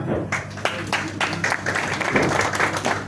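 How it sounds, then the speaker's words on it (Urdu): A room of journalists at a Pakistan Federal Union of Journalists meeting claps for their president, chairperson Sadia Kamal, a short burst of close, uneven hand claps that swells and holds. "ایک مرتبہ سب ہماری صدر صاحبہ کے لیے تالیاں"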